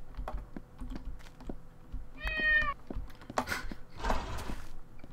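A Minecraft cat gives a single clear meow midway, surrounded by quick keyboard typing clicks and soft background game noises.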